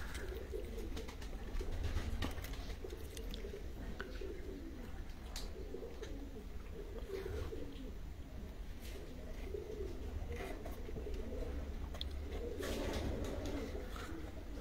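Champion pigeons at a Punjabi loft cooing softly amid a busy, noisy outdoor background, the low coos faint and continuous across the stretch with no talk over them.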